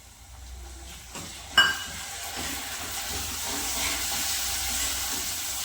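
Garlic, onion and tomato tadka frying in a pan, a sharp sizzle bursting in with a clatter and then holding as a steady, close, bright hiss.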